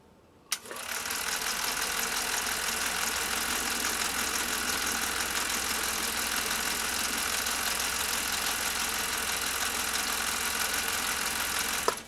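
A Pfaff 332 sewing machine, bought through Goodwill, starts with a click and then runs steadily at full power in slow gear, a constant close mechanical whir that ends with another click.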